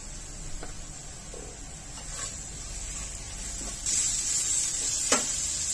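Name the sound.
sautéing cluster beans and potato in oil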